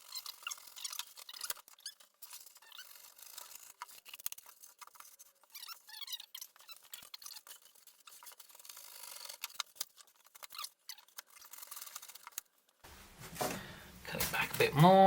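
A craft knife cuts roughly through a section of foam or card for a scratch-built N gauge coal mine model, giving faint scratchy, ticking strokes close by, with a louder rustle of handling near the end.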